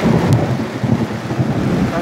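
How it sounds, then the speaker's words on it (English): Thunder rumbles low and continuous through a heavy rainstorm, with rain hissing on a tarp-covered outdoor camp, loud and close with no pauses. "The thunder and lightning is just letting loose out there."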